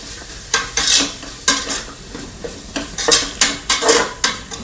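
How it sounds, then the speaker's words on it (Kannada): Chili powder frying in a pan while a spoon stirs and scrapes, a steady sizzle broken by repeated loud scraping strokes, close up and with no talk. "ಸ್ವಲ್ಪ ಖಾರ ಪುಡಿ ಮತ್ತು ಫ್ರೈ ಮಾಡಿ"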